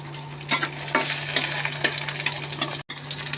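Garlic cloves frying in hot oil for a Bengali garlic mash, a steady bright sizzle with crackling spatters and occasional stirring scrapes, close up and without talk.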